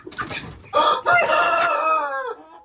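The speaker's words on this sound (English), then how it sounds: "the cock is very vicious. Territorial." A backyard rooster lets out a short clucking burst and then one loud, close cock-a-doodle-doo crow that rises and trails off, heard alone.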